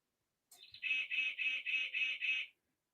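A novelty bird clock chimes a goose-like honk, six evenly spaced nasal calls in a steady rhythm, clear and isolated in otherwise quiet surroundings.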